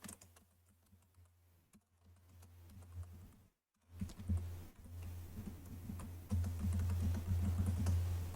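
Typing on a computer keyboard while working in the vi editor: irregular soft key clicks over a low hum, sparse at first, then denser and louder in the second half, with no voice.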